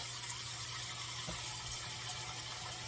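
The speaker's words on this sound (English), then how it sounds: "And we're going to fill her up with water." Tap water running into an upside-down sauce pot in a home kitchen, a faint steady gush with a low hum beneath, no talking.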